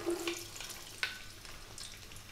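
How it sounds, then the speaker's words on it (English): Celery and onion hit olive oil in a big pot with a quiet sizzle, broken by a single soft clunk partway through. "I've got some olive oil in there. We're going to drop in our celery, our onion."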